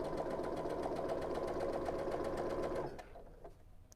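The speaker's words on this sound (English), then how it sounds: "letting the machine feed the fabric through" A sewing machine stitches a strip of quilt fabric, running at a steady, fast, close-up hum with rapid needle pulses before stopping abruptly near the end.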